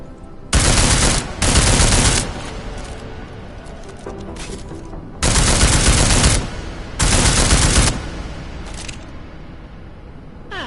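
A silenced weapon in Deus Ex: Mankind Divided fires in four sustained bursts of rapid, loud automatic fire, separated by pauses with quieter ambient game sound.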